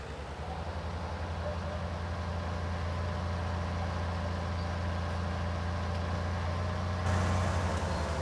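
Tractor engine running steadily in Farming Simulator 19, a deep continuous idling drone with a strong low hum that grows slightly louder near the end, with no talk over it.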